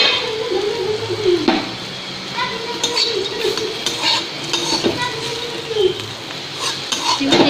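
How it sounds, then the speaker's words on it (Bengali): Crispy fried bitter gourd is stirred in a wok with a metal spatula, making repeated scraping and clinking strokes over a soft sizzle, with some voices in the background. "লাল লাল মুচমুচে ভাজা হয়ে গেছে"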